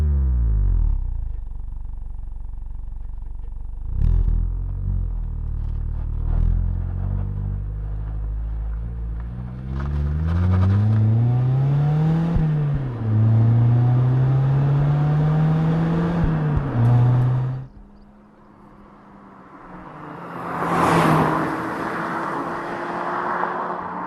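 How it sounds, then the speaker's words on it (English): A 2019 Mazda MX-5 Miata Club revs up through the gears. The engine note rises in pitch, pauses briefly at the shifts and then climbs again, before easing off into road and wind noise. "As for the exhaust note, well, it's quite pleasant, but it's still a bit too quiet for my liking."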